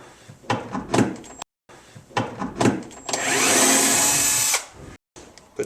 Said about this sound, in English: Now I'm going to unscrew this hinge plate